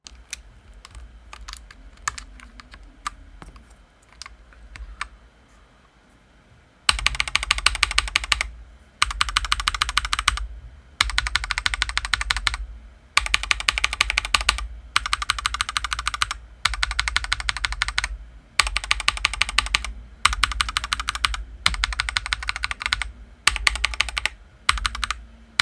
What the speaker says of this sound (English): let's compare the sound of each switches side by side